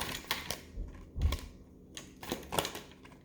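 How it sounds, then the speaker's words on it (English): Tarot cards being shuffled by hand, a series of soft riffling flutters and taps in uneven bursts, close and fairly quiet with no talking. "cards don't want to shuffle for you, Taurus"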